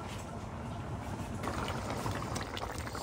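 Liquid pouring into a cooking pot of Liberian water-greens with country beans, eggplant and fish, a steady close hiss and splash that swells after the first second and runs continuously.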